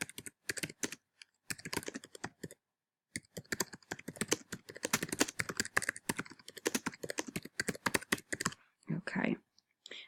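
Keys clatter on a computer keyboard in quick irregular bursts as a comment is typed, close and crisp, with short pauses between runs of keystrokes.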